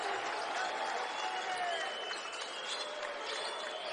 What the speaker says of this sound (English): And listen to this crowd. They're on their feet with still 7 minutes to go in the title game